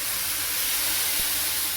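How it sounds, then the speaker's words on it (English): A steady, close hiss of stock sizzling in a hot risotto pan, even and unbroken for the whole moment with no voices. "You're going to hear the sizzle of the stock."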